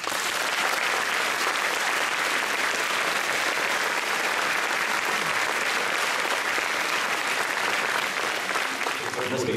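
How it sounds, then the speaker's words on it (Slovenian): A dense, steady round of audience applause for a wind orchestra conductor at a Saturday night concert show in Tržič, filling the whole stretch without pause. "Poseben pozdrav za začetek in aplavz prosim velja našemu glasbenemu uredniku, dirigentu Nejcu Večanu."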